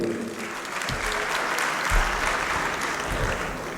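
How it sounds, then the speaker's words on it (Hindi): An audience at a poetry gathering honoring a famous poet's birthday breaks into sustained applause, a dense even roar of clapping that holds steady and swells slightly near the middle. "बात सही हो तो तालियां बजाइएगा"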